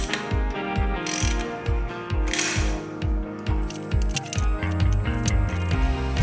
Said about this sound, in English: locking them in place with some 1/4 inch bolts and nylon lock nuts.